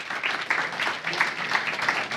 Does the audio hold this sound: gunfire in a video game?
no